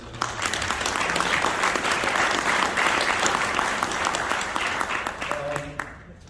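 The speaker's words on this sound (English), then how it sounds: "Let's give a round of applause again." A conference audience gives a full round of applause, dense clapping holding steady before tapering off near the end, with a brief voice at the close.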